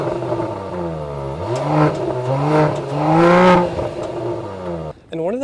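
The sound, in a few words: Mercedes-AMG GLE 53 engine and valved exhaust revving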